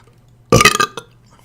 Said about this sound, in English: I'm gonna burp into the microphone right now.